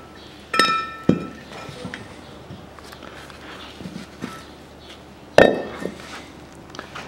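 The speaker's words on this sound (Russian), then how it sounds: "Берем, переворачиваем ступицу." A steel wheel hub from a Land Rover Defender's front brake assembly is turned over on a workbench, producing a few sharp metallic clinks and knocks separated by quiet pauses.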